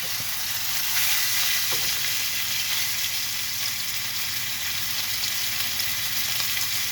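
Lamb chops sizzle and fry in a hot pan with a steady, close crackling hiss and a few scattered pops, continuous and alone with no talk.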